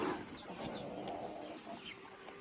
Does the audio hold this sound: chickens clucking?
yes